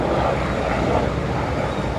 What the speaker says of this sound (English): the sound of Kerrville right now is the sound of helicopters flying overhead